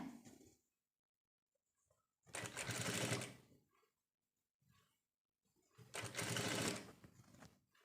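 A sewing machine stitches a churidar top made from nighty fabric in two steady running bursts of about a second each, separated by quiet pauses with a faint voice in between.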